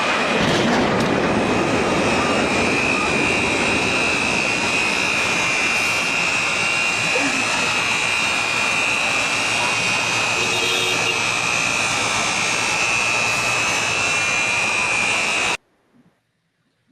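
Jet airliner engine roar from televised September 11 attack news footage, a loud, steady broadband rush with a sustained whine that runs unbroken for about fifteen seconds and then cuts off abruptly into near silence.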